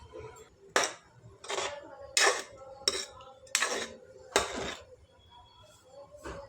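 Spoon scraping and knocking against a pan while vegetable curry is mixed, about half a dozen sharp metallic clatters spaced roughly a second apart over a faint background.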